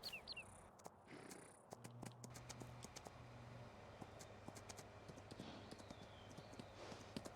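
Horse hooves clip-clop steadily in Farming Simulator 19 on the Alpine expansion map, a moderately close, continuous rhythm of light hoof knocks with faint ambient sounds and occasional higher clicks around it.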